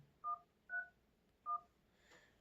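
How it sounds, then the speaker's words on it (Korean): Three short telephone dialing tones beep on a Redmi Note 7 dual-SIM smartphone, evenly spaced and quiet, followed by a faint hiss. "전화를 한번 걸어볼게요"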